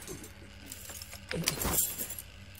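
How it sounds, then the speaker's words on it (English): Keys jingle and clink in a video game scene, a brief metallic rattle rising briefly over a low ambient background. "And the keys, darling."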